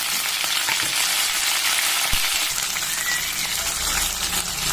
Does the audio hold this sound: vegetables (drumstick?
yes